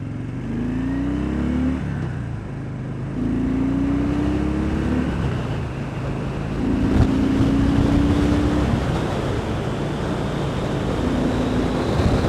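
Harley-Davidson FXDB Dyna Street Bob motorcycle accelerating hard on a road, its engine note rising in repeated pulls through the gears over steady wind rush, loud and close throughout.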